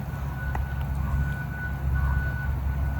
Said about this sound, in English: As you can hear in the background with the beeping, the town is still working on our road